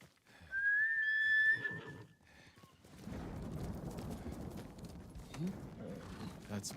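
Kage, a horse in Ghost of Tsushima, gallops with rapid, steady hoofbeats that build after a high whistle, fairly close and under light game ambience, while someone talks.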